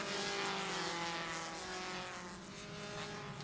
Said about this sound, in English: So the cars forming up behind